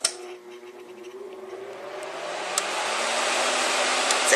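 Suction fan of a 3-in-1 electric nail file machine with dust extractor starts up with a click and whirs steadily, rising and settling into a smooth moderate hum, close by with no talking.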